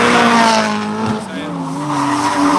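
Car drifting around the bottom corner of the Minami drift course at an autumn matsuri, with loud continuous tire squeal and a straining engine, close by.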